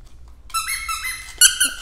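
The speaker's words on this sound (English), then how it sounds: "It's got double squeaks." A raccoon-shaped plush dog toy with double squeakers gives several sharp, high squeaks, close and clear in an otherwise quiet room.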